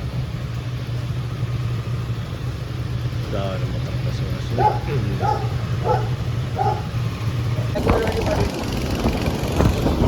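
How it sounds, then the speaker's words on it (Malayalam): A dog barks four times in a quick series, mid-distance, over a constant hum of traffic and an idling engine near a petrol stop on the road to Valparai, with muffled voices nearby. "പട്ടി ഉണർന്നു."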